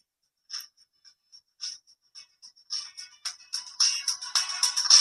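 A JETE FR22 smartwatch's built-in speaker plays a sequence of short high-pitched beeps and tones, sparse at first then growing denser and louder toward the end, with no talking.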